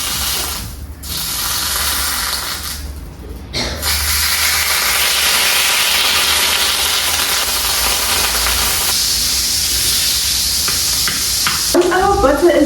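Butter melts in a hot pan with a loud, continuous hiss and sizzle that briefly dips twice early on, while mechanical clicking runs underneath.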